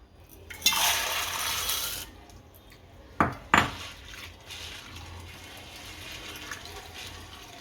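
Chora beans being washed in water, with splashing and swishing in a metal vessel, a couple of sharp knocks against the pot and a softer rinse trailing off.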